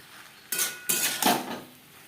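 A utensil scrapes and stirs fried potatoes and pointed gourd with spices in a metal pan, making three quick, loud scraping strokes up close.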